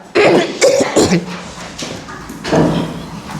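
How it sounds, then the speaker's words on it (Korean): Coughing in a middle school classroom, several loud close coughs and throat clearing in quick succession, then a further burst after a short pause. "아우, 다들 기침이 많이 나지."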